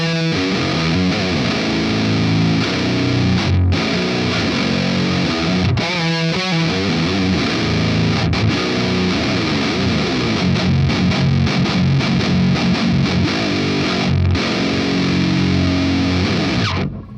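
Heavily distorted electric guitar through the ML Amped Burger amp plugin, a thick fuzzy doomy tone played as slow sludgy riffs with sustained chords, loud and continuous with no voices.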